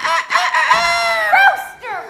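A person imitates a rooster crowing, a single drawn-out cock-a-doodle-doo with rising and falling pitch, loud and close, ending on a short squawk.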